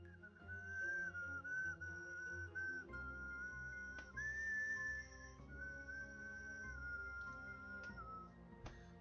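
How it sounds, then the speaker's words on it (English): A person whistles a wandering, melodic tune quietly indoors at a computer, the sustained notes rising and falling alone over faint background hum, with no talking. "I gotta stop whistling, that's gonna be so annoying to you."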